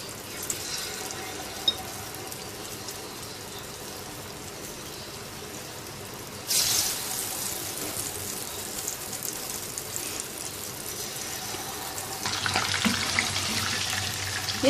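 Single chicken pieces fry in hot oil with a steady hiss and sizzle, and the sizzle grows louder in bursts as more pieces are added.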